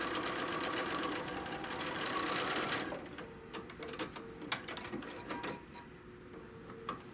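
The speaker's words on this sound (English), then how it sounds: "we're sewing across" A sewing machine stitches across a quilt block with a rapid, dense whir for about three seconds, then stops. Scattered light clicks and taps from the fabric and machine follow.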